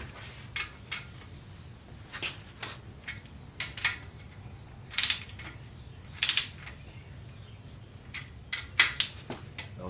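Ratcheting torque wrench tightening crankshaft main bolts on a Ford 351W V8 during an engine build, heard as several short separate bursts of metallic clicks spread across a quiet workshop background.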